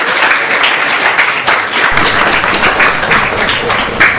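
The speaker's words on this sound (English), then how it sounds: "Please give them a big round of applause." An audience applauds together at an evening devotional program, a dense, steady wash of clapping filling the whole stretch with no talking over it.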